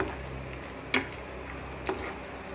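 A sev and tomato curry bubbles softly in a pan, a faint low simmer broken by two brief scraping stirs about a second apart.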